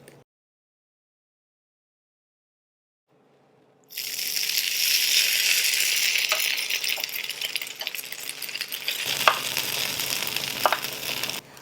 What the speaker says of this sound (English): I sprayed my waffle iron with a little bit of cooking spray, and hear that sizzle?